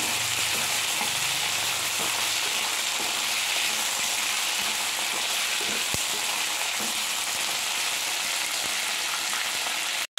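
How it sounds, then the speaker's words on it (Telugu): Carrot, potato and tomato pieces sautéing in oil for semiya upma, giving a steady close sizzle and crackle throughout with occasional stirring clinks, no talking. "ఇవన్నీ ఆయిల్లో మగ్గనివ్వాలి"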